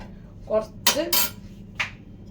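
Pork being stirred in a metal cooking pot gives a few sharp clinks and scrapes spread over two seconds, with a short voiced sound near the start.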